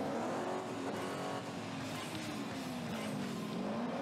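A Patriot Rodeo racing truck in black paint, in a racing video game, drones steadily with a loud, continuous engine note whose pitch rises and dips as it speeds along.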